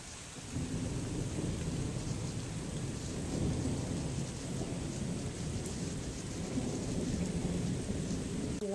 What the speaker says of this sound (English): just look at all that rain